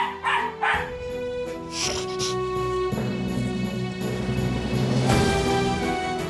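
A Pomeranian barks aggressively in a home, with sharp repeated yaps, yips and whimpers, some overlapping, mixed with other indoor sounds.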